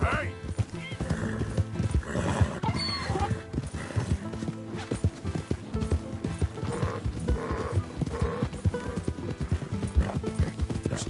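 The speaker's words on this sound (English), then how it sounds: "It's just a donkey" A donkey brays in the video game Red Dead Redemption 2 while hooves clop steadily, set among busy in-game ambient sounds that continue through the whole stretch.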